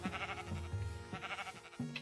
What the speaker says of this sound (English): I thought it was a pink sheep again.